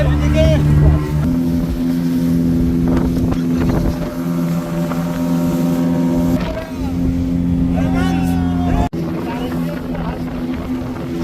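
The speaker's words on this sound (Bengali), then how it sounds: "আমরা এখন নিঝুম দ্বীপের উদ্দেশ্যে রওনা দিচ্ছি স্পিড বোটে" A speedboat carrying about eight passengers heads across the Meghna waves to Nijhum Dwip, its engine a loud, steady close drone with wind rush and slight pitch shifts, while people talk over it.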